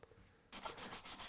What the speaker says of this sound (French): Je passe des heures à mon établi à poncer.